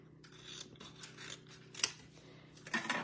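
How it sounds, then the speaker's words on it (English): Scissors snip through apple green fabric pieces, a series of soft close cuts in quick rhythm, quiet against a faint background hum. "I'm gonna take some granny apple green and I'm gonna cut"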